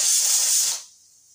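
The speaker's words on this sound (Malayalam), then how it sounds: "കുക്കറില് കൊള്ളി വേവിക്കാൻ" A pressure cooker with tapioca inside lets out a short, loud burst of hissing steam that cuts off abruptly, leaving near silence.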